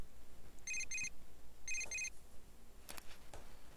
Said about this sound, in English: Receive a text message from Yosuke.